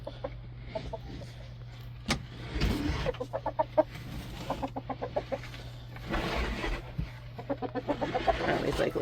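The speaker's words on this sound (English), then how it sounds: "here comes the rooster" A rooster in a small 6x8-foot backyard chicken coop in winter makes soft, close, repeated clucks in short irregular runs over a steady low hum, with some scuffling between the calls.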